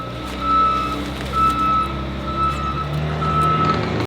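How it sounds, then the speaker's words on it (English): A vehicle backs up while a reversing alarm beeps at a steady rhythm, about five or six high, piercing tones over the low rumble of a truck engine nearby. "Backing up, backing up."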